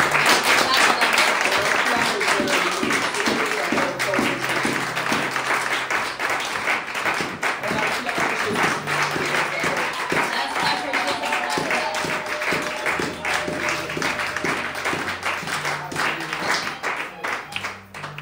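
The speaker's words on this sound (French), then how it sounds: "On acclame bien." A church congregation at a French-language Sunday service applauds in sustained, dense clapping, with voices and a keyboard or organ faintly underneath throughout.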